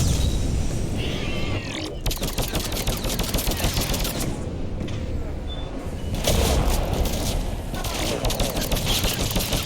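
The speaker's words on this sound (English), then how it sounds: "With the fire mod, this gun's insane." Sustained, loud automatic gunfire from a fire-modded gun in Mass Effect, a dense rapid stream of shots running nearly the whole stretch with a brief dip near the start, layered over busy game action.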